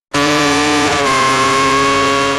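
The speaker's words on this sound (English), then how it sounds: "it's not just engine noise" A loud, steady AI-generated race car engine whine starts abruptly and holds a sustained high-revving drone with strong harmonic tones, alone with no voices.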